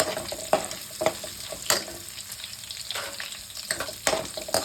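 Garlic and dried red chillies sizzle and crackle steadily in oil up close for an amla pickle, with occasional sharper spatters and scraping stirs cutting through the frying hiss.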